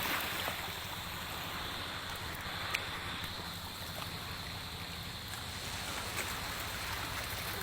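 Sea water washes and rushes steadily close by, a dense continuous sloshing wash at the shore that fills the whole stretch with no clear voices over it.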